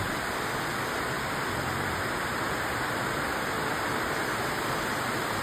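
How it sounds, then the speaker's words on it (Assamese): Heavy rain pours down in a steady, dense roar, constant and loud with no pauses or voices. "পুৰা ধাৰাসাৰ বৰষুণ"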